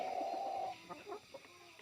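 Brown hens and a Rhode Island Red clucking softly at close range, a few short broken clucks after a brief sustained tone, quiet and without speech.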